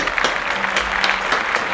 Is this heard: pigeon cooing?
no